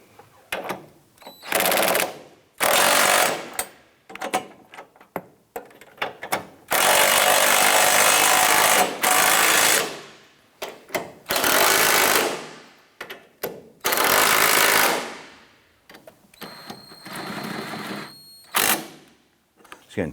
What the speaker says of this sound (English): Let's go ahead and tighten down our bolts.